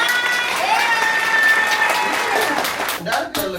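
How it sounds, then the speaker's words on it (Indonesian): Audience applause at a couples' game show, a dense wash of clapping from a live crowd that holds steady for about three seconds, with a few voices breaking through as it thins out near the end. "Tepuk tangan dong."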